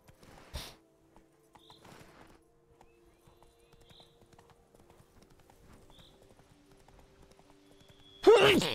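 Hooves of Roach, a horse in Witcher 3, clip-clop faintly at a slow walk, with a soft whinny and a loud burst at the end; a voice is briefly heard.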